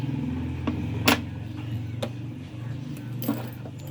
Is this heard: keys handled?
yes